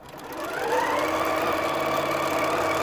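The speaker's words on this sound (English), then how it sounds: "I'm gonna sew directly on this line" A sewing machine stitches along a marked line at a short stitch length, spinning up over the first moment into a continuous, even mechanical whir close by, with no voices.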